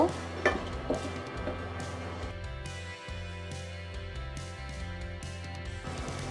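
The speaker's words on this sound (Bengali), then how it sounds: "এবার আমি গরম তেলের মধ্যে দিয়ে দিচ্ছি ছিঁড়ে রাখা তেজপাতা একটু নেড়ে নিব" Torn bay leaves frying in hot mustard oil for a tangy-sweet mango pickle, a soft sizzle under clinks and scrapes of stirring in the pan, with a sharp pop near the start.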